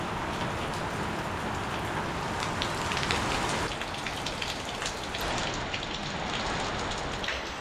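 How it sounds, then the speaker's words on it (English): Steady rain drums on a surface outside a mobile vehicle home, a dense, continuous hiss that holds close and fairly loud throughout with no voices. "Told you it was raining."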